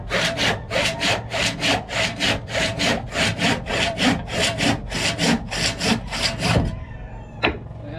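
A hand saw cuts through hard wood for reinforcing a dive boat hull in steady, rhythmic back-and-forth rasping strokes, close up, ending with a brief knock and quiet.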